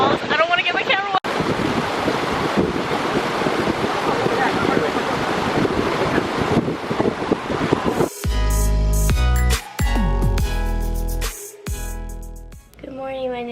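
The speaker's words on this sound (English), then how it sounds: "There's falls." A Yosemite waterfall roaring as a continuous loud rush of falling water, close up and heavy with wind buffeting the microphone, before the sound cuts abruptly into other louder noises.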